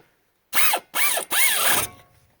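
Ratchet tightening brake caliper bolts during a brake change, three rapid bursts of close, loud clicking, each burst lasting under half a second, with no talk.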